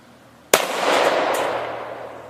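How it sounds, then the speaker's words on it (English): A shotgun fires a single loud blast at a metal drum target outdoors, a sharp crack followed by a long fading rumble and echo, with no talking. "Got to shoot that drum. I'll shoot the bottom."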